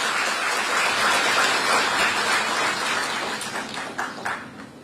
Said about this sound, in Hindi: मैं चाहूंगा एक बार जोरदार तालियां बजाकर उनका स्वागत करिए